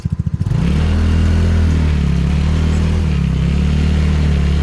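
Yoki Kart 200 teen buggy driving onto a curb about 15 cm high, a loud close engine with a few sputtering pulses first, then a steady droning mid-pitched run with slight shifts in pitch.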